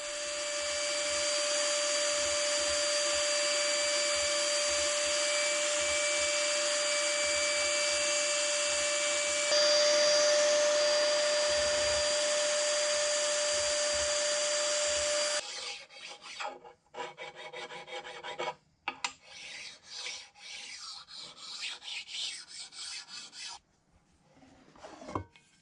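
A Biax power scraper works a 24-inch cast iron camelback straight edge, first as a steady close motor drone with a rasping edge, then as choppy, uneven bursts of scraping strokes with short pauses. No one talks.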